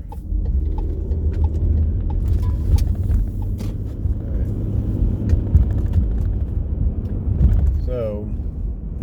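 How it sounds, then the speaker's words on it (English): Car driving along a road, a steady low engine and tyre rumble heard from inside throughout, with small knocks and a brief squeak near the end. "now I'm kind of just driving back the way that I came"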